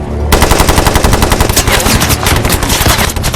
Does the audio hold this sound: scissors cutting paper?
no